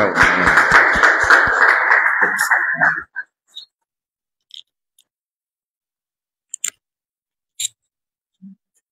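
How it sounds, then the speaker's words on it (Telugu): Applause from a church fellowship gathering, dense clapping for about three seconds that stops abruptly, followed by a few isolated faint claps and taps in near silence. "చప్పట్లు కొడుతూ"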